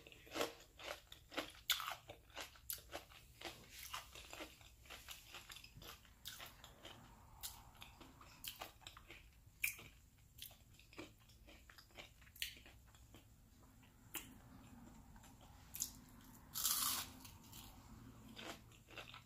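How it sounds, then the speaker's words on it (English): Close, quiet crunchy bites and chewing of crisp hash browns, irregular crackly crunches scattered throughout with softer mastication between. "As you see, I like my hash browns crunchy."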